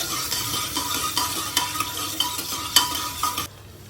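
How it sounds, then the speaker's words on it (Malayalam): Onions fry in a pan for biryani with a steady hiss and sizzle, while a spoon stirs and scrapes against the pan in repeated clinks until the sound stops abruptly. "ഓക്കെ, ഇവിടെ ഓണിയൻ ഫ്രൈ ആയിട്ടുണ്ട്."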